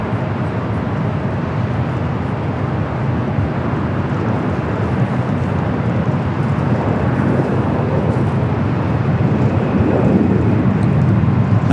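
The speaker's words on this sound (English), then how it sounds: "747-8. This is the 8. Going to be taking off there on the south side." A Boeing 747-8 takes off from runway 25 left at LAX with a loud, continuous jet engine roar, broad and rumbling, building slightly toward the end.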